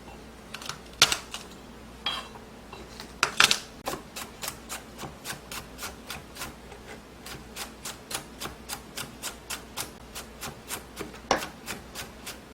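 Garlic, about four cloves halved, is chopped finely with a knife on a cutting board: a long run of quick, evenly spaced sharp taps, steady and close, with no talking.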